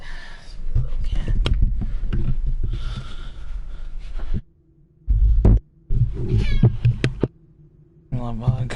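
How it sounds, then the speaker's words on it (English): A cat meows inside the Mass Effect video game, a few short mews heard over game music and a low throbbing hum while someone talks nearby. "It's a little cat."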